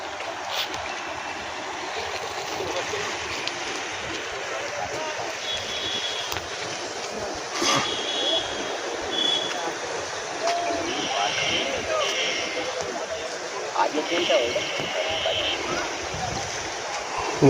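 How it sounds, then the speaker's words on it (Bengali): Huge torrent of floodwater surging beneath a bridge in flooded Udaynarayanpur, a steady, loud broadband rush that fills the whole stretch, with voices in the background. "বিশাল জলের তোড়।"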